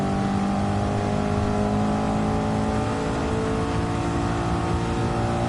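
A GT race car engine in the Gran Turismo video game, probably lapping Suzuka, holds a loud, steady drone for the whole stretch with no break or pause.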